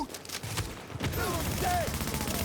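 Video game gunfire crackles in rapid overlapping bursts, dense and close at first, then dissolves into a noisy wash of battle sounds with faint whistling tones, while voices talk over it.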